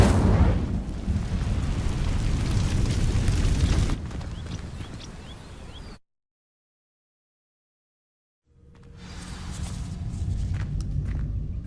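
In Hogwarts Legacy, the Incendio fire spell sets dry vines alight with a loud roaring whoosh of flame that crackles and fades, followed by a few seconds of total silence, then a rising ambient rumble.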